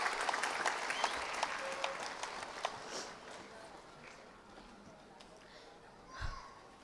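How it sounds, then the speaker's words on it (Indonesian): A graduation audience applauds for the parents, a full, crowded clapping that starts strong and then fades away gradually, followed by faint room noise and a soft thump. "Boleh kita berikan tepuk tangan apresiasi yang sebesar-besarnya untuk kedua orang tua kita"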